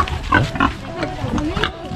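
Pig grunting on a rural Philippine farm where a sow has just given birth, a few short nearby grunts rising over background chatter and people talking.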